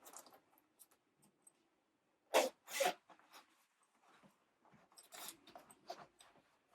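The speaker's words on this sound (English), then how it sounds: "Let's see if I can zip it." Zipping up the zipper of a woman's fashion jacket, with two loud quick rasping zips in the middle, then softer fabric rustles and a few more zip strokes, close up.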